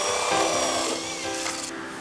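A handheld drill fitted with a hole-cutting bit bores into a plastic bucket meant for collecting larvae, giving a steady, close grinding and rasping whine that shifts pitch slightly as the bit cuts.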